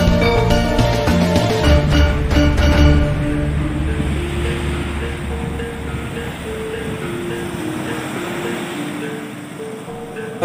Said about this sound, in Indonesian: beginilah suasana di Pantai Menganti saat ini yang memang air lautnya sedang pasang ya, teman-teman, cukup tinggi